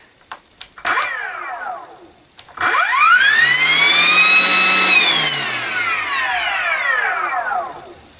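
A Ryobi 40V cordless chainsaw runs with its blade removed, giving a brief whir before a second spin-up to a loud, high electric whine that holds and then winds down.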